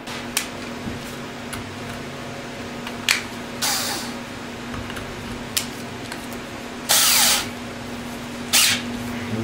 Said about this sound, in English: we'll drill this out and see how it goes